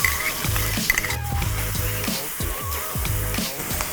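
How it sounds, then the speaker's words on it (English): Garlic and chilies stir-frying in a hot wok for Thai drunken noodles with seafood, a steady loud sizzle broken by repeated rhythmic scraping and clanking of a utensil against the metal. "the garlic and the chilies go in"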